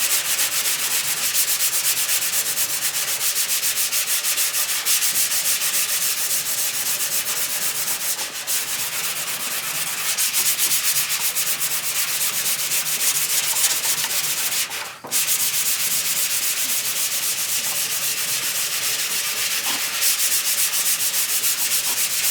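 A sanding block rasps steadily back and forth over primer on a 1968 Camaro body panel, a loud, continuous scratchy rub with only two brief pauses and no talking.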